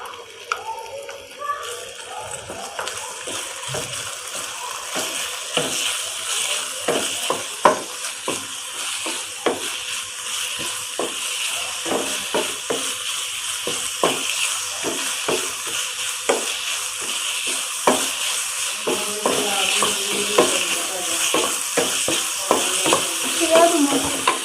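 Chicken fried in a spoonful of oil in a pan while being stirred, a continuous sizzle laced with frequent scraping and clicking stir strokes close up, steady throughout the clip with no talking.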